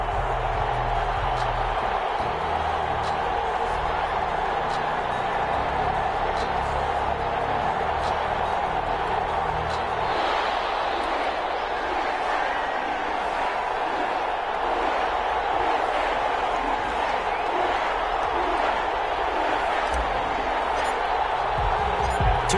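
Stadium crowd roar from an NFL football video game on PS4, New York Jets versus New Orleans Saints, a steady loud wash of cheering that runs throughout, with game commentary talking over it.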